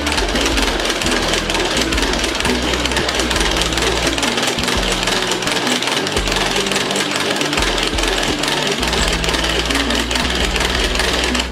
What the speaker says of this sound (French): Je vais tourner. Je vais mélanger.